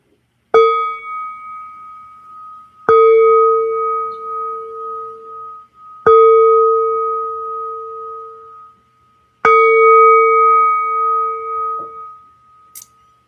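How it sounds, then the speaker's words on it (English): Mindfulness bell struck four times at slow, even intervals, each strike a clear sustained ring that decays slowly before the next, loud and close in an otherwise quiet space. "And that is a bell of mindfulness."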